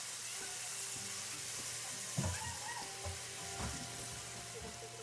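Whole spices and ginger-garlic paste sizzle and fry in a karahi, a steady close crackle with a few sharper spits and stirring scrapes midway.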